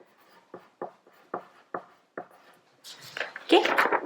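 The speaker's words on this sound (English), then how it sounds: "let me write it down for you" Pencil strokes on paper sound close up as a series of short, evenly spaced scratches, then turn into faster, denser scribbling toward the end.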